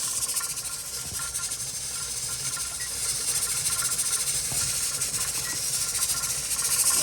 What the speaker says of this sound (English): once the stream of steam steady, you put your timer for 10 minutes